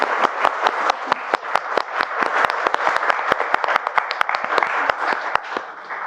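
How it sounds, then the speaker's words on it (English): Wedding guests at a ceremony at Dodford Manor clap after a reading, a round of distinct, fairly close hand claps in a steady, lively patter that keeps going throughout. "I think he deserves a round of applause."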